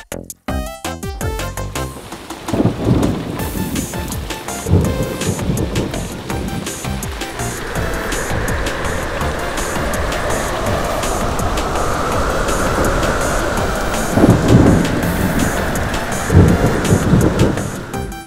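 Thunderstorm sound effect of rain and thunder: a sharp crackling strike opens, then dense steady rainfall with rolling thunder swelling loudly several times.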